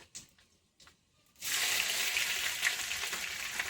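Panch phoron and crushed ginger hit hot oil for a soybean singara filling: after a few quiet handling clicks, a loud, bright sizzle bursts in and holds steadily to the end.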